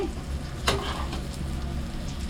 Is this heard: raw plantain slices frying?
yes